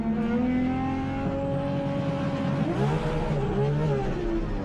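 A heavily tuned 1239 bhp Toyota Supra roars through an anti-lag rolling launch, its loud engine note rising and falling in pitch as it accelerates hard, with no voices over it.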